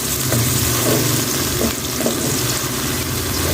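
Chopped onions fry in a pan for a home-style shimla mirch (capsicum) dish, giving a steady, close sizzle with a few soft stirring scrapes throughout and no talking.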